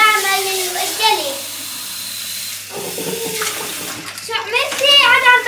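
Dishes being washed under running water in a home kitchen, a steady hiss of flowing water with a voice speaking over it.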